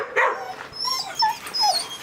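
A dog gives a run of high, whining yips and short cries, close and fairly loud, with several rising and falling squeals spread across a couple of seconds and no talk over them.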